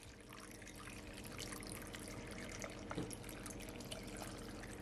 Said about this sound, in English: now I'm gonna add some water, and I'm gonna add at least 1 cup of water.